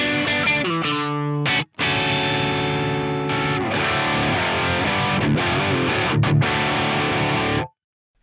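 A PRS electric guitar played through a distortion preset on a Fractal FM3 gives thick, saturated chords and riffs for about eight seconds, with one short break in the middle and a clean stop at the end.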